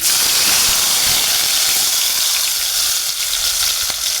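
Cumin and mustard seeds sizzle in heated oil, a loud, dense, continuous hiss and crackle that stays steady throughout with faint clatter underneath, no voices.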